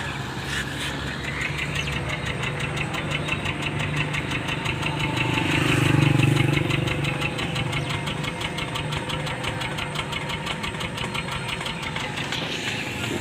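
Suzuki Wagon R engine idling with an ignition misfire, heard close at the exhaust silencer: an uneven, stumbling idle with irregular puffs and knocking pulses, swelling briefly in the middle before settling back.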